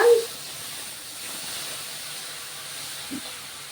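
Vinegar poured into hot oil seasoned with koshari spices gives a brief close burst at the start, then a steady soft hiss of sizzling continues alone.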